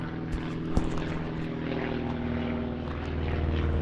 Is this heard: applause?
no